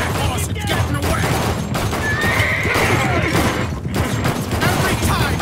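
A horse in the action video game Blue Estate lets out a loud, drawn-out whinny over a dense mix of hoofbeat clatter and gunfire-like game noise, all close and busy without pause.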